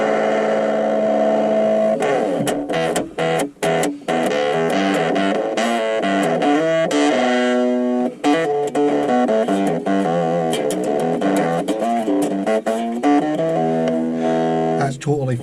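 A heavily distorted electric bass guitar played through overdrive gives gritty, buzzing notes and short riffs, loud and close, with brief pauses between phrases.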